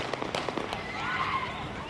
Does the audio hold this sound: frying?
no